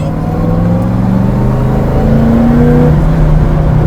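A Chevelle SS454 with a 454 LS5 V8 accelerates from the inside, a loud steady engine roar that climbs in pitch, with a continuous drone and no talk.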